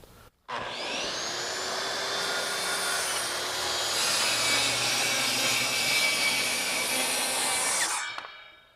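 A saw rips through a full sheet of 4-ply 1/2 inch CDX plywood in one continuous, loud, whining cut of about eight seconds that starts abruptly and winds down at the end.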